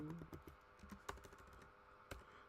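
Quiet, close typing on a computer keyboard, a quick irregular patter of soft key clicks with a couple of sharper taps, heard alone without talk.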